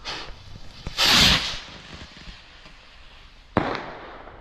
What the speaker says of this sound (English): So here we've got one of these Firestar Devil rockets. Let's light this up and see what it does.